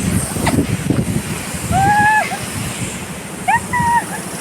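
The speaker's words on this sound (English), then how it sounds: "Fresh wind." Wind and rushing water near Chinma-Dare waterfall in Shallang, Meghalaya: constant broad roaring noise with buffeting gusts on the microphone, and a couple of faint bird-like whistles over it.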